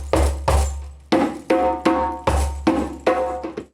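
A djembe tilted off the floor struck in a steady pattern, about eight deep booming hand hits with resonant low tails, close and loud with no talking.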